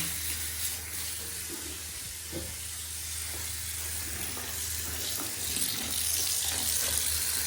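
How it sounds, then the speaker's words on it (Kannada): Hot water runs steadily from a tap, a continuous hissing rush with slight variations in flow and a low hum underneath, no voices. "ಇನ್ನೊಂದು ಸ್ವಲ್ಪ ನೀರು ಬಿಟ್ಕೊಳ್ಳೋಣ,"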